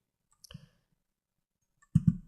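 Computer mouse left-clicking in a quiet room: one soft click early on, then a quick pair of sharper, closer clicks near the end, with silence between.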